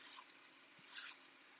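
Two short hissing bursts from a spray bottle mist water onto crinkly collage paper, close and quiet, separated by a brief pause.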